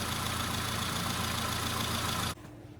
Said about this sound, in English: it's idling quite rich